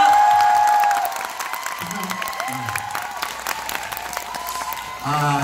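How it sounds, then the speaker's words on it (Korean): A concert audience applauds with steady, dense clapping that carries on under a singer's onstage talk, then swells again near the end. "박수 한번 주세요"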